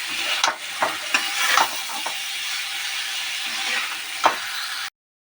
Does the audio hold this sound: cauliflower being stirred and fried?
yes